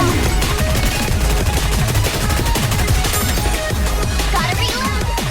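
Rapid automatic gunfire in the video game NIKKE, a loud, dense, continuous barrage of shots layered with game music and effects, with no pauses.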